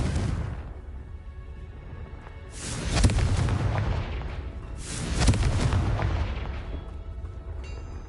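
Two booming spell blasts from the Confringo fire curse in Hogwarts Legacy, each a loud broadband burst with a rumbling decay, spaced about two seconds apart over a low background.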